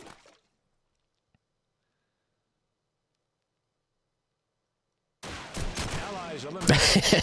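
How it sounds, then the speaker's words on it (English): Dense burst of gunfire from a Call of Duty 2 match, loud and chaotic with rapid overlapping shots and impacts, arriving suddenly after a long stretch of near silence. "And a barrage of bullets just land around him."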